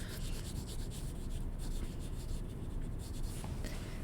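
A crayon rubs steadily back and forth across paper, coloring over a drawing, giving a close, continuous scratchy texture with no talking.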